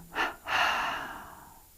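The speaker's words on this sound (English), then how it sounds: "Inhale up. Exhale down." Deliberate breathing during a yoga-style energization exercise: one short, sharp inhale followed by a longer, fading exhale, close and clear with no talking.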